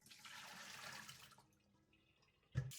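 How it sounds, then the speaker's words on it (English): A running tap pours water into a glass bowl to rinse salt off chicken feet, a faint splashing stream that trails off midway, followed by a brief clunk of the bowl near the end. "Place the glass bowl under running water and rinse off the salt."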